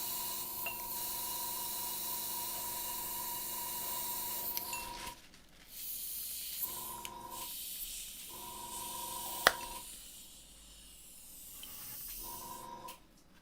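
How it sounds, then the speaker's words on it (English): Steady airbrush hiss spraying water runs for several seconds, then breaks into short spurts of spraying separated by pauses, with a faint background hum. "Yeah, I'm spraying some water."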